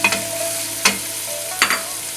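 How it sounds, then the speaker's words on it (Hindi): Large pieces of meat fry with garlic and green spices in a pot, a steady close sizzle broken by three scraping stirs at roughly even intervals, with no voices. "गोश्त को लहसुन और हरे मसाले के साथ भून लेते हैं।"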